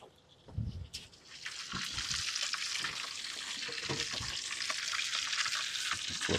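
Steaks sizzle steadily in hot beef tallow, a dense continuous frying hiss with occasional louder spatters and pops, close and prominent throughout with no voices.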